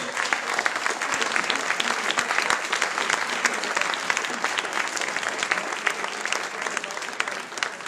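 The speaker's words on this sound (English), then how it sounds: "A big applause again for Federica." Applause from the audience at a Speck&Tech tech meetup on productivity, a dense, steady round of clapping that stays loud and even for the whole stretch, with no voices over it.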